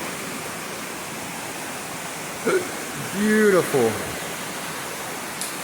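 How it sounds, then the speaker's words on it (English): A waterfall flows out of a cave, making a steady, loud broadband rush throughout; someone briefly speaks over the continuous roar. "I'm at the top of the waterfall now."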